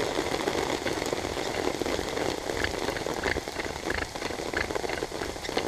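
Bow drill spindle spun at a steady pace to warm up the hearth board in wet outdoor conditions, a continuous dense rasping friction noise that stays loud and even throughout with no talk.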